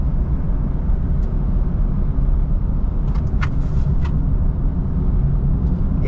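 A car drives along a road in Kalibo, Aklan, Philippines, its steady, loud low rumble filling the whole stretch, with a few faint higher clicks and knocks partway through.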